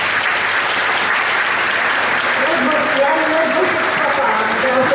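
Audience applause at the Koncert Nadziei 2014 charity concert, a dense steady clapping from a large crowd that runs throughout, with a voice faintly audible beneath it.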